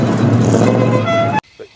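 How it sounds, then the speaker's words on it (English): Lotus Esprit V8 engines fire up and run with a loud, close, steady roar, then cut off abruptly into near silence. "we fired up the V8s"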